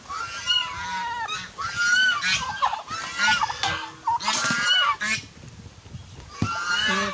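A goose, kept with chickens in a Filipino backyard, honks repeatedly in loud nasal bursts close by, with other fowl calling around it and no talk.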